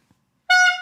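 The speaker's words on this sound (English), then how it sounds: "Can I give him 3 honks real quick?" A single loud, bright horn honk sounds abruptly after a brief near-silence and holds steady for a moment before easing off slightly.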